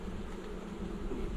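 Honeybees in an opened hive give off a dense, steady buzzing drone that is close and continuous throughout the brief moment.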